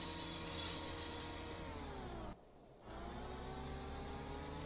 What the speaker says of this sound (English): part of my drive system is the motor also tries to stop the train